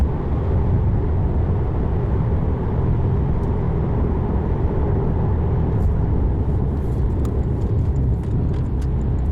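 A Porsche engine drones steadily from inside the cabin while driving at constant revs, a loud, even low rumble with faint road noise and occasional small clicks, and no talking.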